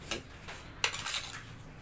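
A cement mixture being stirred by hand in a container, giving a few brief scraping and clinking strokes, close and fairly quiet.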